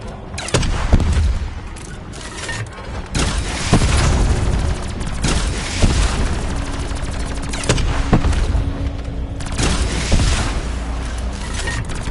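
Explosions and booming gunfire-like blasts from a video game ring out loudly and repeatedly, with sharp cracks scattered through a dense rumbling background.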